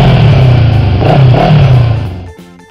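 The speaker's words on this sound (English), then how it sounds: "Motorcycle. Sepeda motor." A motorcycle engine growls close by, its pitch rising and dipping with throttle changes before fading out near the end.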